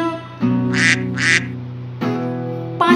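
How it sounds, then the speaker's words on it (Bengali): A cartoon mother duck in a Bengali nursery rhyme gives two quick, bright quacks near the start, over a steady sung or musical tone that carries on afterward. "মা হাঁস ডাকলো প্যাক প্যাক প্যাক"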